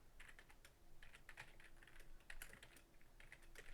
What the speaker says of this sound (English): But let's type this stuff in.